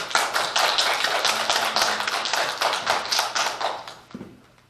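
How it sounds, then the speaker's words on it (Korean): Congregation applauding in a church sanctuary after a musical offering by two performers, a dense, steady burst of many hands clapping loudly for several seconds before thinning out and fading. "우리 해와 또 혜미 양의 우리 격려의 박수 한번 드릴까요?"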